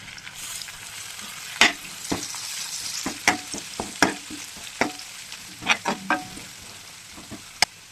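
Potatoes with turmeric and curry leaves are stirred in hot oil for a potato tomato curry, with a loud close sizzle punctuated by about a dozen sharp spatula knocks and scrapes against the pan.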